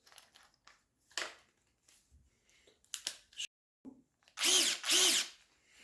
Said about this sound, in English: Now I'm going to test in the drilling mode.